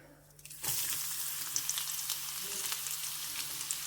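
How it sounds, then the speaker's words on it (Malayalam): Garlic, onion and curry leaves hit hot oil with popped mustard seeds while a chickpea curry is cooked, setting off a sudden loud sizzle after a short quiet moment that crackles on steadily and close. "കടുക് പൊട്ടിയിട്ടുണ്ട് ഇനി ഞാൻ ചേർക്കുന്നത് വെളുത്തുള്ളി കുറച്ച് സബോളയും പിന്നെ കറിവേപ്പിലയാണ്"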